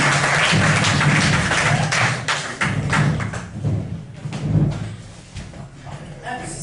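An audience at a live comedy mind-reading show applauds a volunteer, a moderate burst of clapping mixed with thumps and room noise that fades after a few seconds, with voices underneath.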